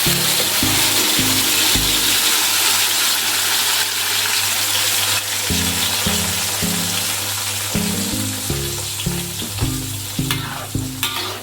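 Ground spice paste for sweet-spicy chicken satay sautéing in a pan, a loud continuous sizzle with regular scraping strokes of a spatula stirring the paste, close up, no voices.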